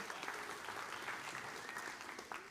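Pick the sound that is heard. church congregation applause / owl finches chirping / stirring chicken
church congregation applause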